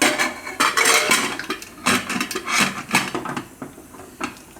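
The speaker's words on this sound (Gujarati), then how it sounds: "તો કુકરનું ઢાંકણું બંધ કરી દેવું." Metal pressure cooker lid being closed over spinach and chickpeas, a run of close, uneven clanks and clinks of metal on metal with short pauses between them.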